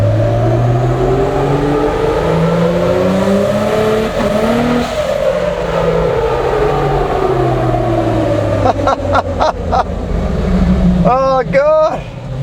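A 400 hp RB30DET-powered Nissan Patrol revs hard on a dyno while overboosting in cold conditions, its engine note sweeping up and down loudly before sharp, rapid pops and crackles near the end, with voices talking over it.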